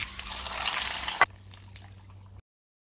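Urad dal, mustard seeds, cumin, dried red chillies and curry leaves fry in hot oil for a Chettinad sambar tempering, a loud hissing sizzle that drops abruptly to a faint crackle before falling silent.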